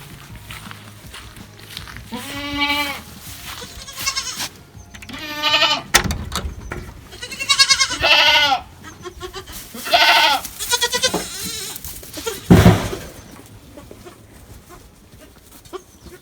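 Goats bleating repeatedly nearby, several loud wavering calls spaced a second or two apart over a low background rumble.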